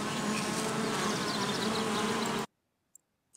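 Dense, continuous swarm of bees buzzing loudly and close for about two and a half seconds, then cutting off abruptly into silence with a couple of faint clicks.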